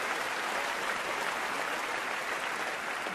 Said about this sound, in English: thank you everyone for clapping and cheering